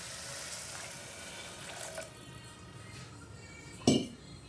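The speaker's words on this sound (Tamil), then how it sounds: "தண்ணி கொஞ்சமாக ஊற்றிக்கிறேன்" A tumbler of water poured into a pan of sautéed carrots, a soft splashing pour that fades, followed by a single sharp metallic clink of the tumbler against the pan.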